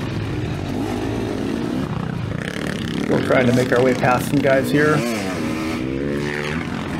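A 2024 KTM 300sx two-stroke dirt bike rides a motocross track at Albany MX Park, its engine rising and falling through throttle blips while a rider talks over it and another bike can be heard nearby.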